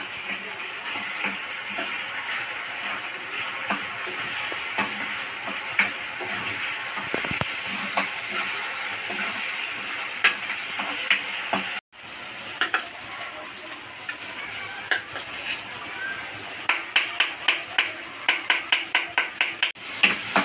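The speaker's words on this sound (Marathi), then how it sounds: "तर मित्रांनो इथे कांदा टमाटरला चांगला शिजून द्यायचं आहे" Onion and tomato cooking down in a pan for homemade pav bhaji make a steady close sizzle and frying hiss, with a brief drop near the middle and a run of sharp spoon-on-pan taps toward the end.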